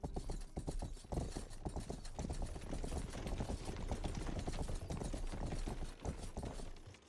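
Horse hooves clip-clop in a steady, brisk rhythm in the video game Rustler, close and continuous, with faint mechanical clatter layered underneath.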